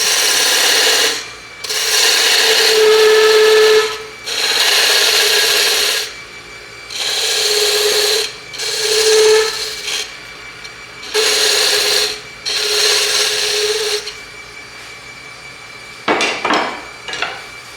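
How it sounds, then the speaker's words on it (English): A spindle gouge rolls a corner on wood spinning on a lathe, giving a run of loud, broadband scraping cuts in bursts of a second or two with short pauses, followed by a few lighter taps at the end. "I'm going to use the spindle gouge, and we're going to roll that corner with it."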